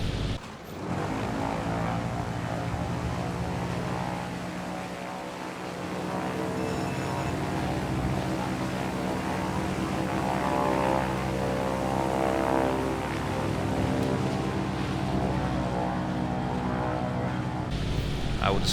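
Draco propeller bush plane in Microsoft Flight Simulator droning steadily in flight over a coastline, a loud continuous engine and prop hum with layered tonal harmonics and no talk.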